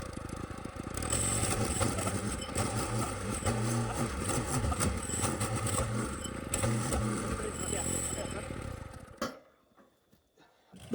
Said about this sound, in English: to dig the holes, we decided to rent a two-person auger